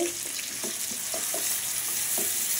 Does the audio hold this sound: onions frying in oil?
yes